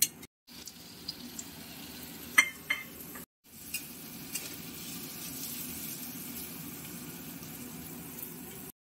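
Hilsa fish roe rubbed with salt and turmeric frying in oil with onion, garlic, ginger and chilli, giving a faint, steady sizzle with a few soft clinks of stirring.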